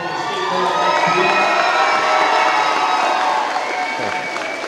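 A crowd at a Division 3 girls' sectional final cheers loudly and continuously as the champion team receives medals, with high shouts and screams from young voices over sustained applause.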